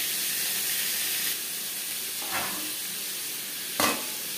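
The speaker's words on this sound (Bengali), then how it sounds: "ডাল বেশ ভালো করে ফুটতে শুরু করে দিয়েছে।" Dal (lentils) boiling in a pot on a gas stove, giving a steady, fairly loud bubbling hiss with a few brief louder bursts and no voices.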